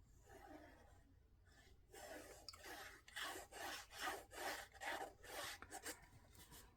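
A folded paper crease is burnished for a craft album, a soft close rubbing that starts faint and builds into a quiet rhythmic series of back-and-forth strokes.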